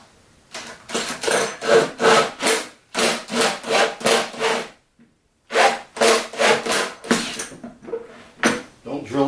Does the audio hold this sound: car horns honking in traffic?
no